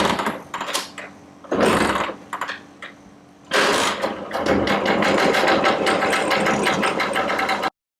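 An old Vijai Super scooter, about 40 years old and parked for two months, is coaxed to start: a few separate mechanical bursts, then a loud, steady, rattling engine run that cuts off abruptly.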